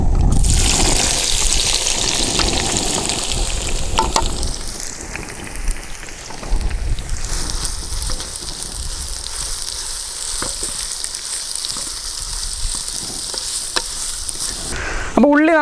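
Onions frying in hot oil in a clay pot for a tender coconut biryani, giving a loud, steady sizzle with stirring scrapes throughout and a brief sharper clatter near the end, with no talking.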